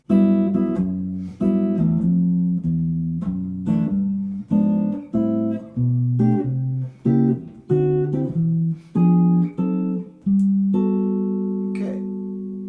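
A jazz guitar plays a walking bass line with chords on top, separate plucked phrases with short gaps between them, clear and close, with no talking.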